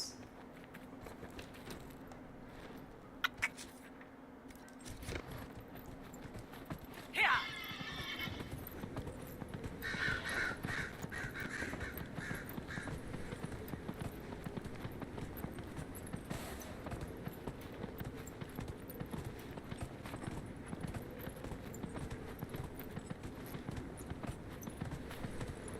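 A horse in the Dragon Age: Inquisition game whinnies once and then clip-clops steadily at a gallop over faint ambient background, the hoofbeats continuing evenly through the rest of the stretch.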